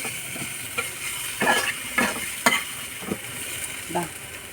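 Cooked tapioca being stirred in a pan with the heat switched off, giving soft, irregular scraping and stirring strokes with a faint sizzle underneath at moderate level, no speech.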